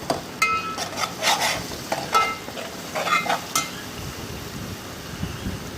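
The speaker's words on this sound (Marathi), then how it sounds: "पेस्ट आता चांगली तेलावर आपल्याला परतून घ्यायचे" Ginger, garlic and green chilli paste fries in hot oil with a loud, bubbling sizzle and spatter in bursts, fading to a softer hiss toward the end, no voices.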